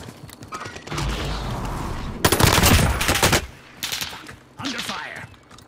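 Rapid bursts of automatic gunfire in a video game, a dense volley in the middle and shorter bursts after, with brief talk in between.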